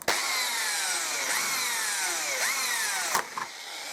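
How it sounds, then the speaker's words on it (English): A high-pitched power drill with an 8mm bit whines steadily, drilling through a crack, its pitch dipping and recovering several times as the bit bites into hard material, close and loud. "I'm going to stick an 8mm drill bit straight through it"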